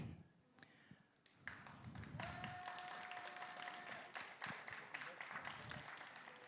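Scattered taps and claps at a tattoo expo awards ceremony in Menton, building into steadier applause mixed with crowd noise and a sustained tone, with audience voices underneath.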